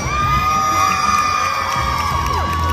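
A crowd of anime fans at LA Comic Con 2024 cheering loudly for a cosplay battle entrant, with a dense roar of shouts, whoops and high screams carrying on without a break.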